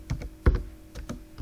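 A handful of computer keyboard keystrokes click close by, a few separate taps with one heavier press, quick and dry on a form being filled in.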